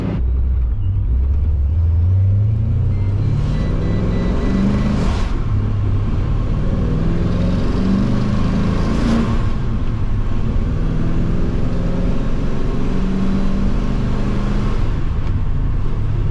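A Procharged Pontiac GTO cruises along back roads, a continuous close interior engine rumble with rising and falling revs and steady road noise, no talking.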